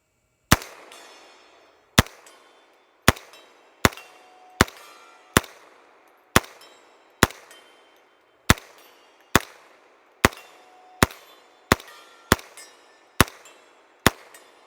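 A Glock 10mm pistol with a 40 MOS slide fires single shots from SGM magazines, about fifteen loud, sharp reports at uneven intervals of roughly one second, each followed by a short echoing decay outdoors.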